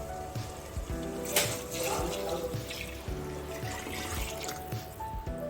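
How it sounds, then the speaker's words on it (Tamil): Water pours steadily into a pot of chicken biryani in progress with a soft, continuous splashing trickle, fairly quiet and close. "இப்போ நான் வந்து இதோடவே வந்து தண்ணி சேர்த்துக்கிறேன்"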